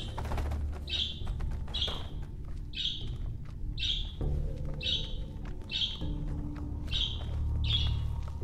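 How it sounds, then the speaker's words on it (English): A pet bird chirps in a room, giving a string of sharp, regular calls about once a second, fairly near, over the steady background noise of a video game. "My bird is going off, dude."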